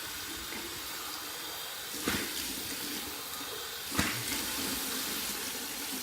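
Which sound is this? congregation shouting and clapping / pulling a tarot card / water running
water running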